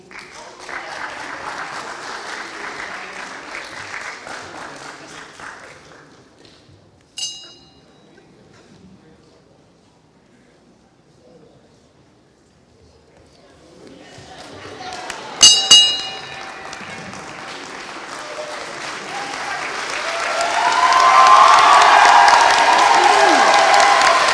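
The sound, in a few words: audience applause and cheering for graduating class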